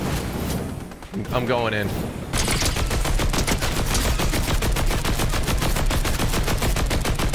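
Dense, rapid gunfire erupts in a Fortnite battle during the Collision live event and keeps pounding without pause after a brief spoken line, loud and close throughout.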